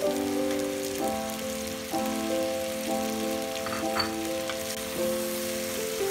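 Chicken and potato pieces frying together in a pan for an Assamese chicken and banana flower curry, with a soft continuous sizzle under a sustained tonal background that shifts every second or so, and no talk.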